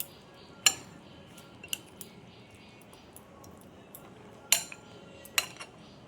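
A metal spoon clinks sharply against a bowl a few times while chia seeds are mixed into a breakfast mix, close and crisp over near silence.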